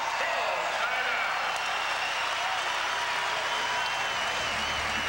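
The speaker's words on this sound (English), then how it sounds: "the crowd at Omaha Civic Auditorium getting into it" A crowd roars and applauds at an ISU vs Creighton college basketball game in Omaha Civic Auditorium, a constant wash of cheering under a commentator's voice.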